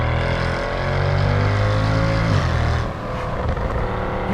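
Mercedes-Benz CL63 AMG driven hard, its engine giving a loud, sustained roar that rises in pitch and then eases back slightly near the end, close and continuous with no talking.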